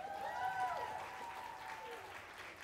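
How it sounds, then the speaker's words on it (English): Applause from a middle school talent show audience fills a school hall, a steady wash of clapping heard from a distance while a voice speaks over it near the start. "another round of applause to Miss Maylin"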